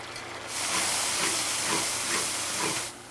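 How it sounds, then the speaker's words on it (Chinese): Chopped and pickled chilies stir-fry in hot oil with ginger and garlic for a fish-head dish, a loud steady sizzling hiss that swells in after a quiet start, pulses a little, then drops away at the end. "然后把那个剁椒和泡椒放进去炒。"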